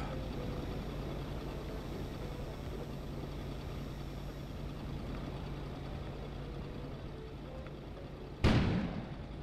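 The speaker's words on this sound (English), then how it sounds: "An explosion suddenly occurred outside." After a long stretch of low rumbling ambience, a sudden loud explosion bursts outside near the end of the clip and decays into a lingering roar, set in the snowy survival game Kona.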